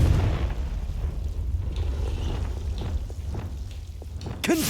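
A Confringo fire spell explosion in Hogwarts Legacy: a heavy low boom and rumble filling the moment, with scattered small crackles and a sharp burst near the end.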